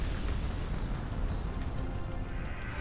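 A Tail Beast Bomb blast in Naruto Ultimate Ninja Storm 4 roars as a sustained, loud explosive rumble that fills the whole stretch, dense and booming with no speech over it.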